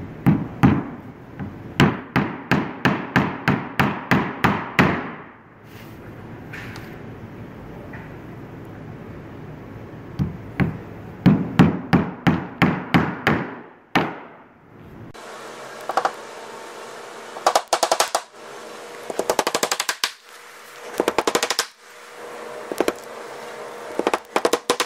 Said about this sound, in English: going to use a dead blow plastic hammer, which is the best to install these cam locks